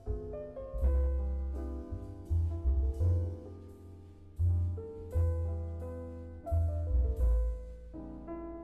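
Mellow looping video game background music with a deep bass line and soft melodic notes plays steadily at moderate volume, with no voices.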